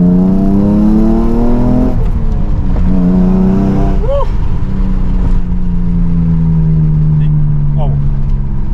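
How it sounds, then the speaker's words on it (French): A Nissan 350Z with a Veilside body kit and a naturally aspirated engine roars loudly from close by on a drive, its pitch rising and falling as the revs change, with someone talking over it. "On va faire un petit tour, histoire de voir ce que donne la voiture. En tout cas, elle gueule pas mal."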